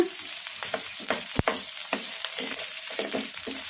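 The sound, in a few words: onions frying in a pan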